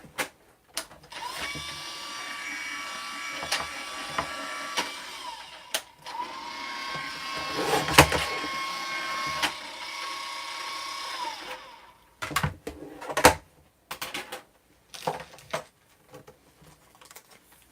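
A Tim Holtz Vagabond electric die-cutting machine draws a die sandwich through to cut two butterflies, making a steady motorized whir for about ten seconds, then a few clicks and clatters as it stops.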